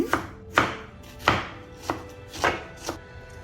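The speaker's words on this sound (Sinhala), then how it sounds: "ඊළඟට ලුණු ගෙඩි භාගයක් කපා ගන්නවා" A kitchen knife chops through half a yellow onion on a board, six crisp, evenly spaced cuts sounding close and clear with no voices.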